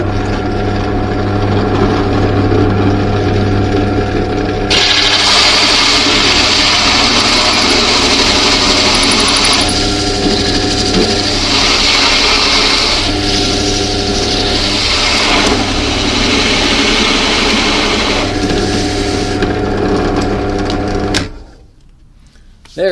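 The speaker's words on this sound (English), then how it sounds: "Let's drill this hole." Power drill boring a hole in wood while making a wooden bike chain, a loud, continuous high whine with the pitch shifting as the bit cuts, lasting about twenty seconds before stopping abruptly.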